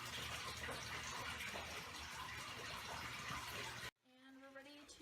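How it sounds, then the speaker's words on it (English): Fresh tap water gushing steadily to rinse a brine shrimp net, a loud close stream that cuts off abruptly near the end, after which a voice speaks over faint background. "So we'll take some fresh water and rinse this net out a tiny bit"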